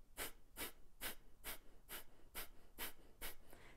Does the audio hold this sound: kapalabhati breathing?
yes